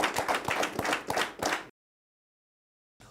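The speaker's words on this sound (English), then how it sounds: "Can you please also give a round of applause to Lautech," A small audience at a televised accountancy quiz game show claps briefly and distinctly for a contestant school, then the sound cuts to silence before a short return of clapping.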